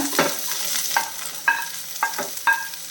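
Onion, carrot, curry leaves, green chili and ginger sautéing in a pan for upma, a steady sizzle broken by a few soft stirring scrapes at irregular intervals, close and moderately loud with no voices.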